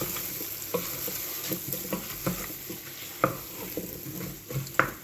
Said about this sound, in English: Give that a good stir up.